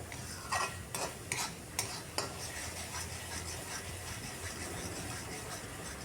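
A Kerala-style fish masala with curry leaves, coconut and garlic is sautéed in refined oil, with a soft steady sizzle and a few quick spatula scrapes at the start before the frying hiss continues alone, faint and even.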